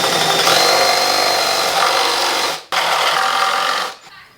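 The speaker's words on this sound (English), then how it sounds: "So now, drill your thick holes for your bolts." Power drill boring thick bolt holes in a messy garage while building a manual trainer, a loud continuous whirring grind that briefly cuts out and restarts, then winds down.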